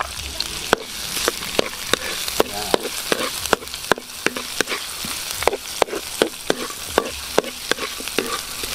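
Ginger, garlic, chili and onion sizzle in hot oil in a pan while a utensil stirs and scrapes in steady, repeated strokes, each scrape sharp and close over a continuous frying hiss.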